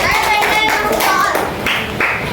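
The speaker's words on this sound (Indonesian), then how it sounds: "Kasih tepuk tangan buat kelompok." Classroom applause for a student group after a presentation, a short burst of close, fairly loud hand clapping from a small group with some voices mixed in.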